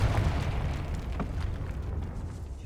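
Confringo spell blast in Hogwarts Legacy: a deep, dense rumbling explosion already roaring at the start, slowly decaying with crackling debris-like bursts, loud with no talk.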